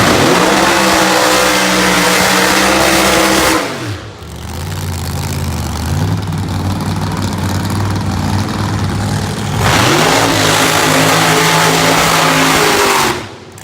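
A 1968 Chevrolet Camaro in a supercharged drag racing event at a dragstrip roars loudly under hard acceleration, engine note rising then cutting off with a brief gap before another surging pass, close and dominant throughout.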